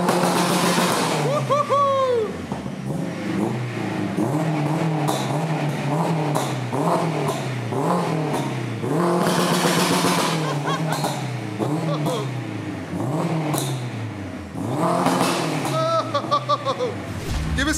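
A turbocharged Honda Integra engine revs repeatedly through a titanium exhaust, rising and falling in sharp bursts with a raspy exhaust note, close and loud, while people talk and shout over it.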